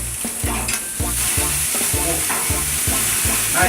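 Skirt steak sizzles in a hot pan, a loud, dense frying hiss that carries on steadily over a rhythmic pulsing tone underneath.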